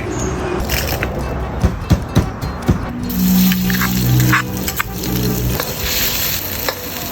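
Stir-frying phat phia, a Thai dish, in a hot pan: a steady close sizzle with sharp scraping clacks of a utensil striking the pan, loudest in the first half, then continuous frying noise with a brief tonal hum.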